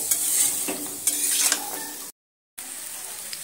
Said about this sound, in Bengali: এবার আমি নুন আর হলুদটা এইভাবে খুন্তি দিয়ে নেড়েচেড়ে আলু আর ফুলকপি আর শিমটা সুন্দর করে ভেজে নেব